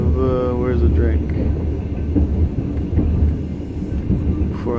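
Interior of a moving train in Russia: a steady low rumble of rolling carriages fills the space, with faint rhythmic clatter and people talking over it throughout.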